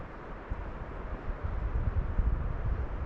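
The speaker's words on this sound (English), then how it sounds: "A little breeze blowing, but most of what you hear is water." River water flows steadily in the Big South Fork backcountry, a broad, even rushing wash with a light breeze gusting over it, growing slightly fuller toward the end, no voices.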